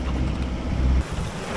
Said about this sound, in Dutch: Nou, de wind is terug.